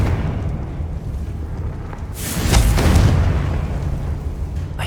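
A Confringo blasting curse explodes in Hogwarts Legacy, a loud broad blast at about two seconds that rolls into a sustained rumbling roar over a low ambient bed.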